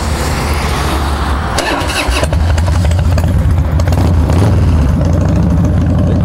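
A Harley-Davidson Dyna Low Rider FXDL engine cranks on a chilly day, catches and roars to life without choke, then keeps running loudly and roughly nearby.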